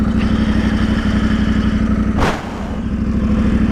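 A KTM motorcycle engine drones loudly and steadily close by, then gives a brief sharp flare near the end as it over-revs on a downshift before settling back to a lower running note.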